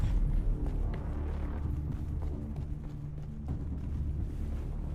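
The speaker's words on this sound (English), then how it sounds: "And that's the sound of a sandstorm" Steady, roaring sandstorm wind in a video game blows continuously with a low rumble and faint gritty hiss, no voices present.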